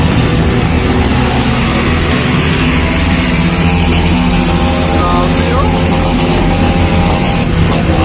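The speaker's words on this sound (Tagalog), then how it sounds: "Ingay ng motor niya." Loud, continuous motor engine noise from a ride through a crowded area, a steady droning rumble that fills the whole stretch with no break.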